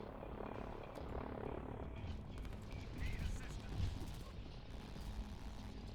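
Helicopters in the Line War strategy game drone and thrum during a raid, a steady mid-level rotor and engine roar with scattered gunfire pops, under a voice commentating.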